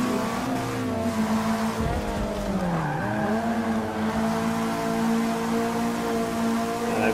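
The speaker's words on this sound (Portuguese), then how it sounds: "Esse áudio tem muito motor." Race car engines from a WTCC video game on the Sonoma circuit, with a sustained high-pitched engine drone that dips as the cars brake through a corner, tires squealing, then the revs climb again, loud and steady.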